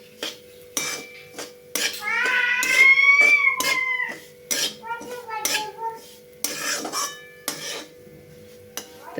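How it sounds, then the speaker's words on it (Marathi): A metal spoon scrapes and clinks against a pan in short bursts as semolina is dry-roasted and stirred for besan ladoos, with brief sizzling-like rustles between strokes and faint background sounds. "रवा आपल्याला तांबूस रंग येईपर्यंत भाजून घ्यायचा आहे"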